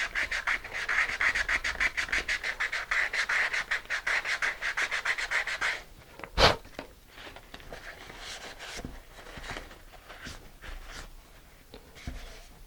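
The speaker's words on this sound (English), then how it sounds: "So I'm starting with 220 grit, and then I drop down to maybe 600 grit to get a really smooth surface." Hand sanding with 220 grit sandpaper on a transition section produces brisk, rhythmic back-and-forth rubbing strokes close by for about six seconds, then a knock and slower, quieter scrubbing.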